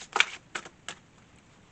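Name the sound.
shuffling a large Mystical Wisdom card deck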